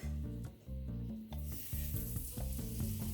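Sirloin beef pieces sizzling in melted butter in a pot, a steady frying hiss running underneath loud rhythmic background music.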